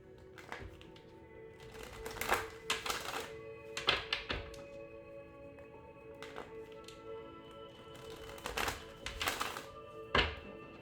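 Playing cards being shuffled in repeated quick riffling bursts, close and crisp, separated by short pauses, with soft taps of the deck between.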